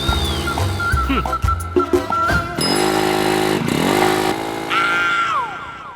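A motorcycle speeds past with a loud, revving engine whine that rises and falls as it passes, mixed with a music score throughout.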